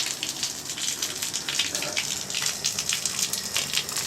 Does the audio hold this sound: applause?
no